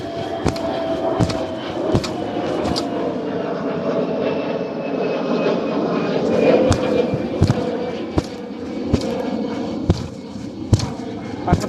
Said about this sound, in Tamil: மேலே ஃப்ளைட் போயிட்டே இருக்கும்